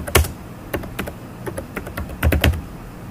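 Computer keyboard being typed on at a desk while entering a bank card statement title: irregular bursts of close, crisp keystroke clicks with short pauses between runs, and no talking.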